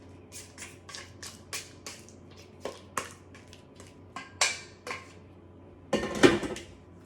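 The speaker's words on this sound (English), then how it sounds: "I'm just going to give it a little stir around just to make sure it's getting off in there into the bowl properly" Spoon stirring cream cheese frosting for a lemon cake in a mixing bowl: a quick series of clinks and scrapes against the bowl, irregular and close, ending in a louder cluster of knocks.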